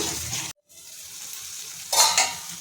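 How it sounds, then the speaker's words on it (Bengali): Fish curry spices with black cumin being stirred and fried in a pan after water is poured in, a steady close sizzle and scraping with a brief pause, then a louder burst of frying. "এটা দিয়ে আরও কিছুক্ষণ আমি কষিয়ে নেব।"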